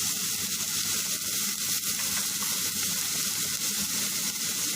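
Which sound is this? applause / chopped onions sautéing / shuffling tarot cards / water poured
chopped onions sautéing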